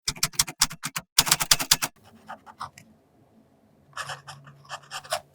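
A fountain pen with a soft fine nib and Kyo no Oto Moegi-iro ink writes on Portage reporter's notebook paper, making close, scratchy strokes. Rapid bursts of scratching give way to quieter, sparser marks, then a pause, then more strokes.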